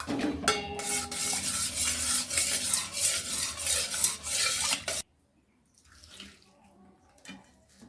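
A spoon stirring watermelon sharbat in a vessel, a continuous watery swishing and clinking for several seconds that then stops, leaving faint, sparse handling sounds.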